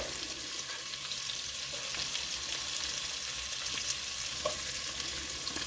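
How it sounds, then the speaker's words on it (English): Chopped green onions sautéing in a pot on low heat give a steady, soft sizzle with faint stirring scrapes, close and continuous, no voices. "we are just going to saute these until they're soft"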